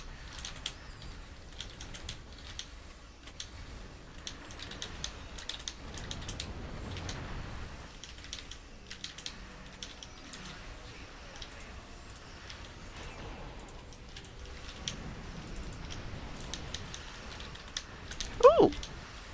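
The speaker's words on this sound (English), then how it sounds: "you can hear the clickety clickety all the time as I hit my very mechanical" Steady clicking keystrokes from a mechanical computer keyboard run throughout, struck hard and fast at close range, with a few louder clacks near the end.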